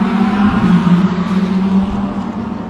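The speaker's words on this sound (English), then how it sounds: "Into the roar of all those V8s as they head down towards Potters." A pack of V8 race cars, with GT4 cars on the circuit, heads down toward Potters Pass with a sustained, droning engine roar, loud and steady, swelling slightly as it passes.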